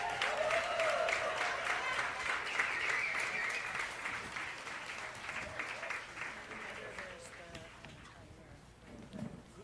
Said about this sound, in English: Another round of applause for our first round of candidates for City Council Position number 2